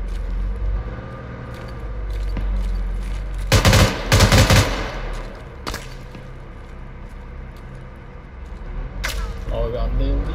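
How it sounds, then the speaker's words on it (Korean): Bursts of automatic gunfire in the ArmA 3 military game during a Gulf War night mission, two loud clustered volleys plus a single crack over a low rumbling background, with voices talking around them. "그 계속 사격 날라옵니다 여기 옥상"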